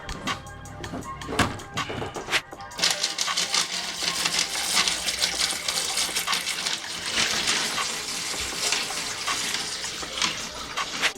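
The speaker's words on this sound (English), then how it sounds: "So let's go get some of this water." Water gushes and splashes steadily into a turtle tank, loud and close, after a few clunks and splashes at the start.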